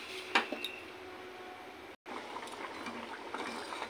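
A pot of sour dal with mango bubbling at a soft, steady boil, with a few sharp clinks near the start and a brief gap midway.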